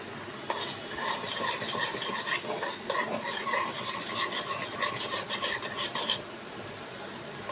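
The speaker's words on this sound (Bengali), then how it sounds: "যতক্ষণ না লাল হচ্ছে ততক্ষণ আমি এটাকে একটু নাড়িয়ে দেবো, পুড়ে না যায়।" Caramel for a mango pudding is stirred in a pan, a continuous scraping, rasping stir with a light sizzle running close and steady throughout, with no voices.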